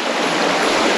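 A mountain stream in Durmitor rushes steadily and loudly close by, a continuous broadband wash of water with no voices over it.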